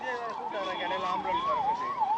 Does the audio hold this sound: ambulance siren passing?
yes